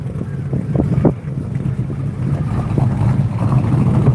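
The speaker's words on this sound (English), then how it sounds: "Listen to the chop in that Chevy" A 1958 Chevrolet Bel Air engine idles with an uneven, lumpy, choppy rumble, accompanied by gusty wind noise buffeting the microphone at an outdoor classic car show.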